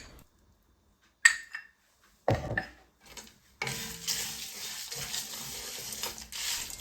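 A spoon stirs powdered spices into sizzling tikka masala in a pan. A couple of brief clinks come first, then a steady scraping, frying hiss continues close up with no voices.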